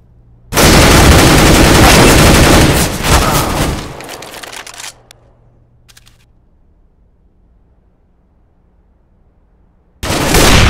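Gunfire in Counter-Strike: GO erupts as a loud, sustained automatic burst lasting a few seconds, tapers into scattered shots and near silence, then a fresh loud burst starts at the end.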